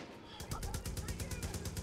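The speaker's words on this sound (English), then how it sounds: "Yo, I'm getting shot at." Machine gun fire in the Far Cry 5 video game, a rapid rattling burst of many shots in quick rhythm that runs for under two seconds, fairly close and steady.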